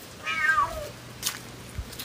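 A kitten gives one clear, close meow that rises and falls, followed by a few soft thumps and rustles in a quiet room.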